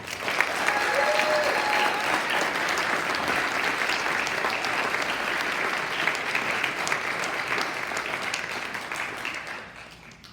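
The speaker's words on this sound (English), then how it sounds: "Everyone, please join me in a round of applause for Coach Tim Schaefer." School winter sports assembly giving Coach Tim Schaefer a round of applause, a dense, even roar of clapping from a large crowd in a hall that holds steady and then fades out at the end.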